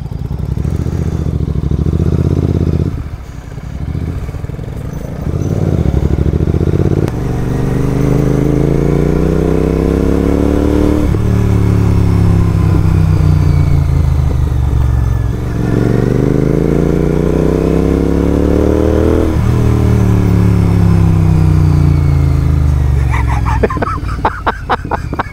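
A GT 650 motorcycle ridden at night, engine loud and close, revving up through repeated gear changes with rising then dropping pitch sweeps, a brief lull early on, and clattering near the end.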